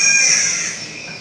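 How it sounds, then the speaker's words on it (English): Spotted catbird calling early in the morning at the Curtain Fig Tree rainforest site, a single harsh, cat-like wail that fades away, heard alone at moderate distance. "That's it sounds a bit like a cat, and it's a catbird. So it's spotted catbird."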